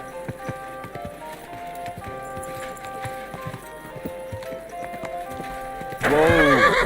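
Horse hooves clip-clop at a steady walk in Kingdom Come: Deliverance II, then a loud, close neigh breaks out near the end.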